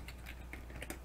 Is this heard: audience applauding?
no